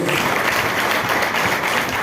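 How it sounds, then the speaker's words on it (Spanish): A church congregation claps steadily and loudly throughout, a dense wash of many hands applauding together during a Spanish-language sermon. "¿Quién le da un aplauso al Señor?"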